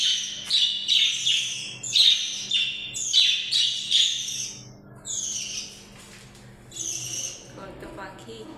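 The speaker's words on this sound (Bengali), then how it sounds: "কত পাখি।" A flock of many small birds chirps and tweets outdoors in repeated bright bursts of overlapping calls at moderate distance, with the calls thinning and briefly falling quiet near the end.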